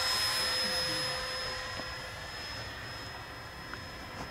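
An E-flite Habu SS 70mm electric ducted fan jet flying at about half throttle, a steady whining fan tone gradually fading as it passes farther off, with faint wind noise.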